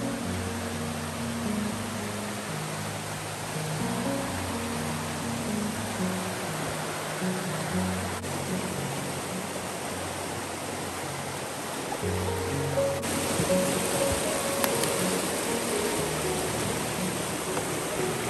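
A creek runs steadily nearby with broad, even rushing water, constant and fairly soft, with a low voice murmuring briefly underneath at times.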